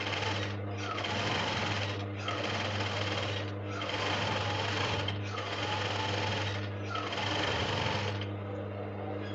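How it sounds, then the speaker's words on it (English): A sewing machine stitches shirred fabric in six steady bursts of fast mechanical whirring, each separated by a brief pause, close and continuous with a low hum underneath. "So start sewing."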